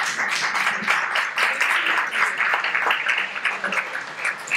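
Applause from an audience at a presentation, with continuous dense clapping that holds steady for nearly five seconds at close, even loudness and no voices over it.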